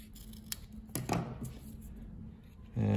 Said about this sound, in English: so I might trim a little bit off the edge